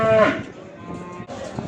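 Cattle at a livestock market, Simmental and other breeds, with one loud close moo at the start, followed by low crowd murmur and market background noise.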